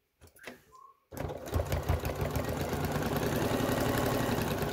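A sewing machine stitches fabric, starting after a short quiet fold of cloth and then running as a steady, fast mechanical hum and clatter, close and continuous.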